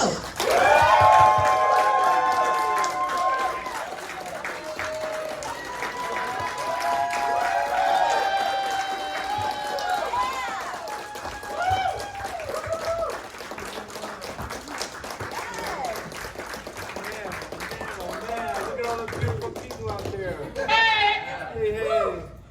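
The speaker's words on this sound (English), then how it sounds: "So much noise, so much applause." Convention panel crowd for the Predator film guests at Days of the Dead Chicago claps, cheers and whoops in a long, loud, sustained wave, with an announcer's voice and excited shouts running over the noise throughout.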